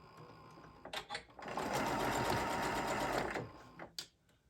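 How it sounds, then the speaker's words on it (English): A home sewing machine stitches a quarter-inch seam on a fabric purse: a few short stuttering starts, then a steady two-second run of whirring and clicking. It is fairly quiet, followed by a couple of brief clicks. "I'm just going to sew this 1/4 of an inch"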